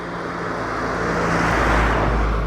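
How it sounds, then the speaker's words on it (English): A chicken lorry carrying chicks drives past on a road, a steady low engine rumble and tyre roar that swells and peaks toward the end as it passes close by, with no voices. "There's a chicken lorry just gone by with a lot of chicks in the back."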